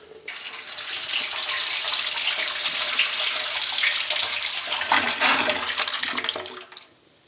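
Water gushes steadily from a tap into a container being filled to test a leak repaired with cat litter, a loud continuous rushing pour that stops near the end.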